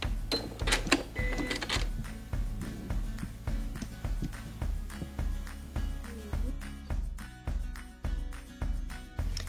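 A sewing machine runs a backstitch along a patchwork seam, its needle thumping in a fast, even rhythm that comes in repeated short bursts, close and clear.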